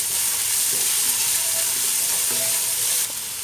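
Egg bread chilli being mixed with salt in a hot pan, a dense continuous sizzle with a few soft scraping stirs, close up, ending in a slightly quieter hiss.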